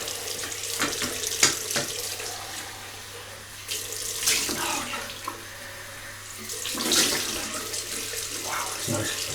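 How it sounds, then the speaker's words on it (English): Cold water runs from a tap for a rinse after a shave, splashing and gushing close by in uneven surges that swell and ease. "Cold water rinse."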